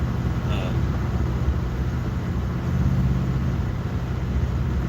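A car with a loud junkyard exhaust rumbles steadily from inside the cabin, a low droning roar that holds on without a break.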